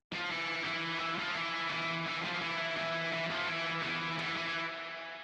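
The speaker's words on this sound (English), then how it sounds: "I put a lot more distortion on this third guitar" Thick, heavily distorted electric guitar chugs steadily, a dense buzzing wall of sound that fades slightly at the end.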